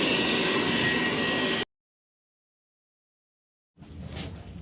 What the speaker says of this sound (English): Next, just do a quick vacuum out of all the junk all through here.